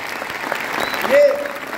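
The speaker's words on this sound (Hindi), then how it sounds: "दिल खोल के ताली, दिल से ताली" An audience at a large success seminar claps together in a steady, dense wash of applause that swells slightly, heard from within the hall with reverberant room sound.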